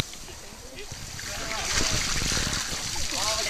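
A dip net for sampling dragonfly larvae is rinsed in stream water, giving close splashing and sloshing that builds over a few seconds, with a voice talking over it.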